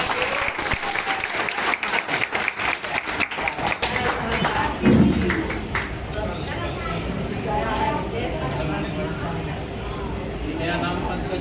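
Clapping from an audience at a celebration event, dense and fairly loud through the first few seconds before easing into a softer patter, with people talking over it.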